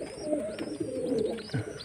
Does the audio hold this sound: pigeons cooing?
yes